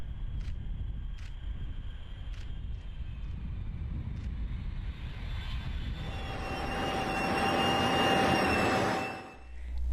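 A military aircraft passes overhead, its engine roar building steadily from a distant rumble to a loud, broad rush near the end, then cutting off abruptly.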